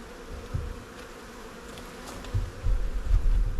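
Honey bees buzz at a hive, a dense, close droning hum that swells louder toward the end, with no talking.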